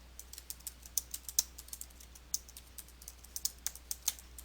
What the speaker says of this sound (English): then type the text using your keyboard.